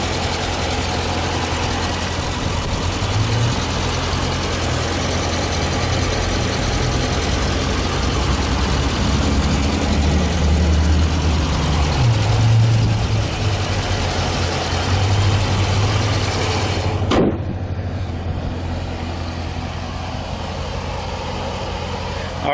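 A 2015 Dodge Challenger R/T Scat Pack with a 6.4-liter, 392-cubic-inch Hemi V8 idles steadily up close, a deep low rumble with slight surges that ends abruptly near the close.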